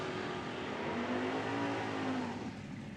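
Nitro funny cars, an Oldsmobile Cutlass and a Pontiac Gen 3 Firebird, at a drag strip; a loud, steady engine roar with a rising whine, heard from mid distance and fading slightly at the end.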